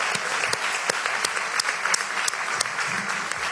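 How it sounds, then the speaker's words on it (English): An audience at a Newark civic announcement applauds steadily, a dense, even clapping from a sizable crowd with sharp individual claps standing out. "Let's give them a round of applause for that."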